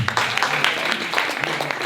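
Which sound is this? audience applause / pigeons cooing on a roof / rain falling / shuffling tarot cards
audience applause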